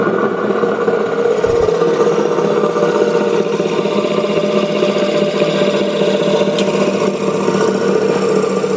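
Motor of a Conquest 20-inch disc sander running on its own, a steady loud electric hum with a constant mechanical drone and no talk.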